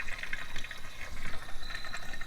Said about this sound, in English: starting to put fresh water back in it